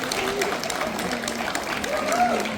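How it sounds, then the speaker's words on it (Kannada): An audience at a ramp walk event breaks into clapping as a participant is called up, a moderate steady patter of handclaps heard under a voice talking over it. "ಜೋರಾದ ಚಪ್ಪಾಳೆ."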